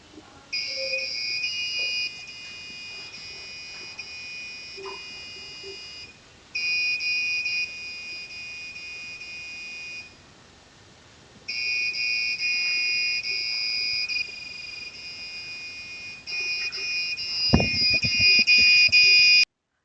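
A PWM buzzer on a robotics kit beeps out a tune in shrill, steady electronic tones, sounding in several sustained bursts separated by short gaps, with a brief knock near the end.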